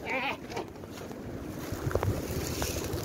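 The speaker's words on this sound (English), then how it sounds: "That wind took our whole pile." Strong gusting wind buffets the microphone outdoors on a windy day of raking a leaf pile, a rough low rumble with scattered light rustles and no talk.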